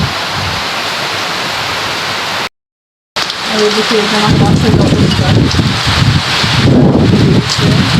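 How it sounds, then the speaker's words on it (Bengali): A storm in Jessore roars close and loud with strong wind and heavy rain, a dense continuous rush broken by a brief silent gap, while a person speaks over it. "এত পরিমাণ বাতাস আর বৃষ্টির পানি আসছে।"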